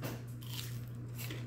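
A single bite into crunchy battered fried fish, a short close crunch over a low steady background hum, with no talking.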